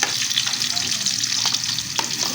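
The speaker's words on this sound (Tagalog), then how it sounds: "Oh, nagisa sa daglamas guys." Garlic, onion and ginger sauté in a pan for a Filipino tambangongo dish, a steady close sizzle with stirring scrapes and a couple of sharp clicks.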